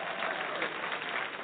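An audience at a gospel music show claps and applauds briefly, a dense, steady wash of hand claps heard from within the crowd.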